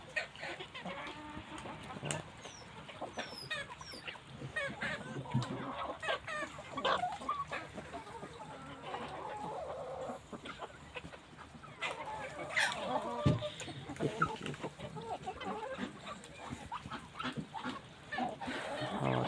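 Chickens cluck and call around a farmyard during a walk through a household yard, with intermittent clucks and fowl calls over quiet ambient noise and occasional soft voices.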